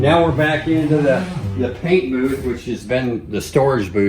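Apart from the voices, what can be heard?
No distinct noise like a dog, phone or traffic.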